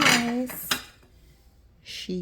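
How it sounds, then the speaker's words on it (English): Mary Kay fine china dishes clink and knock as they are handled, producing a few close ceramic taps between stretches of a voice speaking nearby. "Fine china, Marykay dishes, so nice."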